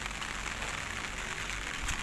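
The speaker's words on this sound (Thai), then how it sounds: "ดูสิครับฝนตกแป๊บเดียวน้ำท่วมเลย" Heavy rain pours down at a construction site, a dense, steady hiss of drops striking surfaces, loud and even throughout with no talking.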